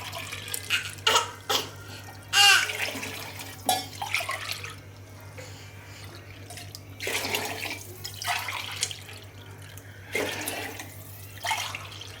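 Water poured into a cooking pot while making vegetable pulao, coming as several separate splashing pours and trickles close by, with quieter gaps between them and no talking.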